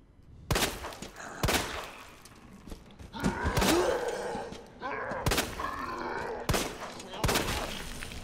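Loud, sharp gunshots from the Resident Evil 2 video game, about six powerful blasts at irregular intervals, with grunts, groans and game sounds between them.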